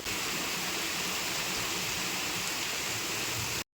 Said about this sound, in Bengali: বাড়ি আসার সাথে সাথে দেখো কি জোরে জোরে বৃষ্টি হচ্ছে